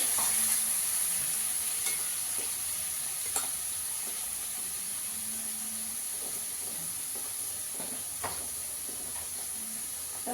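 Tomatoes sizzle in a hot pan for Bengali chapila fish curry, giving a steady, close hiss of frying broken by occasional soft clicks and scrapes of stirring.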